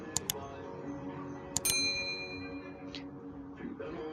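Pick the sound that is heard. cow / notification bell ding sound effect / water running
notification bell ding sound effect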